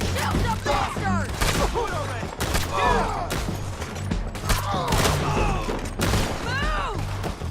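A rapid fusillade of gunfire erupts repeatedly during a bridge fight in Red Dead Redemption 2, with sharp close shots and whizzing ricochets overlapping in dense bursts amid the shooting.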